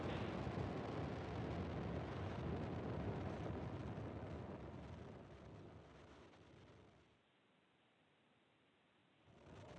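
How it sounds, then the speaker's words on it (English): A SpaceX Falcon 9 rocket lifting off from Vandenberg Space Force Base on the NROL-145 mission gives a broad, distant rumbling roar that holds steady, then fades and drops away before swelling back near the end. "And liftoff of the Falcon 9."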